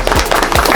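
A few quick hand claps ring out close by at an outdoor gathering of a Jawa motorcycle riding community, sharp irregular slaps over a steady background hiss.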